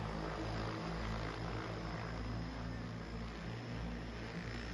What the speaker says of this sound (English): Lodd has begun flight testing of its Hili autonomous VTOL hybrid cargo aircraft.